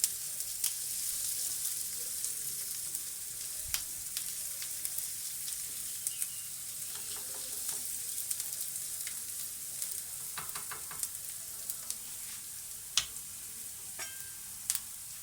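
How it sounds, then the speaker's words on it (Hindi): Onions fry in a pan with red and green chilies, producing a soft, steady sizzling hiss broken by occasional light clicks and scrapes of stirring, quiet and close with no speech. "प्याज हमारा पिंक होना शुरू हो चुका है। इसको हम 1 से 2 मिनट और फ्राई करेंगे।"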